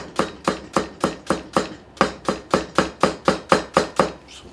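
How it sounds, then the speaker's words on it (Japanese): Knife chopping ingredients finely on a cutting board while preparing yurinchi, Chinese-style fried chicken: about seventeen crisp, close, evenly spaced chops in a fast, steady rhythm with no talking. "細かく切っていきます。"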